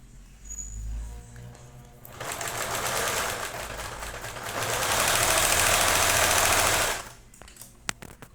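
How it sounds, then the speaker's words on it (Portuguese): Sewing machine stitching all the way around a fabric baby teether, a steady rapid mechanical rattle running for several seconds and growing louder mid-run before stopping abruptly, with a few faint clicks afterward. "vamos para a máquina e vamos fazer uma costura na volta inteira."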